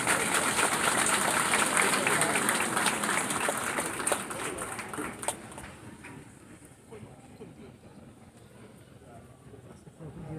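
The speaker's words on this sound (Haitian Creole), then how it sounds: "Sous vos applaudissements." Applause at an academy graduation ceremony, a broad crowd clapping that fills the first half and then fades and thins out, with a voice speaking through it.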